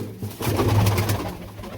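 Racing pigeons bred for competitive flights coo nearby, a low rolling murmur swelling in the middle and fading, with flock noise around.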